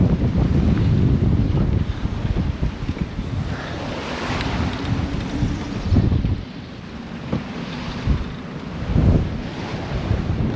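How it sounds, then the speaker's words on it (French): Strong wind and heavy surf on the open ocean as waves break over a sailboat crossing the Atlantic in a rough, well-risen sea; a constant loud roar with deeper surges and thumps as the hull slams, no talking. "On a pas mal de vagues qui nous passent par-dessus, quand même. Le bateau tape par moment."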